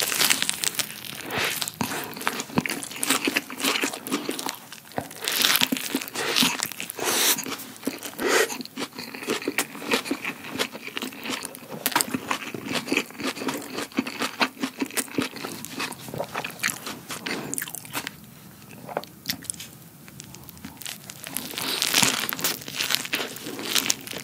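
Crunchy, crinkly bites and chewing of a grain wrap filled with pulled pork, eaten close up in steady repeated mouthfuls with wrapper rustle and no talk.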